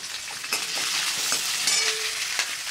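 Lentils, ginger and green chilli frying in hot oil for a tempering, a steady close sizzle with faint stirring clinks running throughout, no voices.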